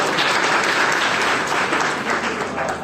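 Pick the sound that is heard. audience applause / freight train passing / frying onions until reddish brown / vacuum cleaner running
audience applause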